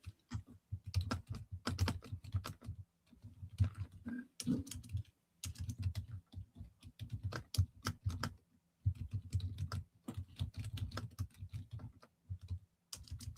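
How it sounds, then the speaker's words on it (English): Rapid typing on a computer keyboard, close up, with dense bursts of key clicks broken by brief pauses over several seconds and no speech. "Typing a comment."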